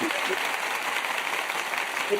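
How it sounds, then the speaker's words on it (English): Audience clapping its hands at a live gathering, a dense, steady patter of many claps close by, holding level throughout with no break. "let's do some hand claps for the baddest"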